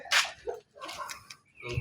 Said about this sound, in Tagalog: nandito po yung mga aso pa oh